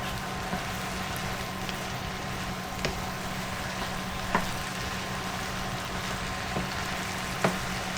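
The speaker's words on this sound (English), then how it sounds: "It's just plain flour, and then you want to mix it all in" Plain flour being stirred into browned minced meat in a pan, giving a steady close sizzle and frying hiss throughout with a few faint clicks of the spoon against the pan.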